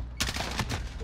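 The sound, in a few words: gunfire in video game Call of Duty: Modern Warfare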